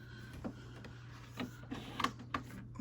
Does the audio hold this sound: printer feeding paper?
yes